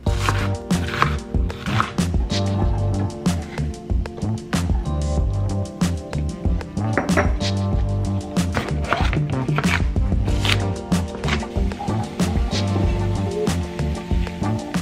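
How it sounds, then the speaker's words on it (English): Onion, garlic and red pepper are chopped by knife on a cutting board for a savory oatmeal dish, producing a steady run of close, rapid thuds and taps with no talking. "So I'm gonna do this, chop all of these up, and then get them on the stove"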